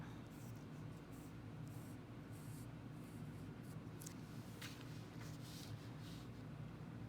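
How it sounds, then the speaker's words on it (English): A Sharpie marker drawing a simple cartoon face on a surface, giving soft, continuous scratchy strokes near and fairly faint over a steady low hum of background noise. "And I'm drawing this in Sharpie"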